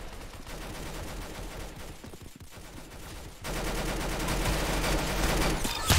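Dense, continuous bursts of gunfire in the video game Clown Infection, rapid overlapping shots forming a loud, sustained barrage that swells louder after a short dip, with no talk.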